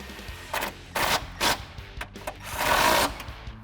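A car's low-temperature radiator reservoir mount being worked on as a brace is unbolted, giving several short bursts of power-tool whirring separated by pauses and ending in one longer run, close and fairly loud; no talking.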